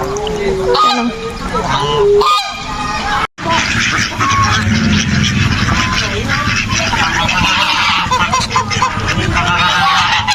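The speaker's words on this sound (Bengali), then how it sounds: "এক পাল হাঁস" A flock of ducks honking loudly and continuously nearby in a public park in Malaysia, overlapping calls filling the whole stretch, with a person talking among them.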